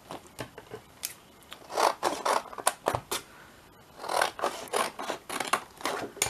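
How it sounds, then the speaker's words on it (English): Scissors snip and crunch through a tough, sturdy cereal packet to rough out a journal cover, in a series of close, irregular cuts with short pauses between them. "Roughly cut that out. Oh god, this cereal packet is really tough."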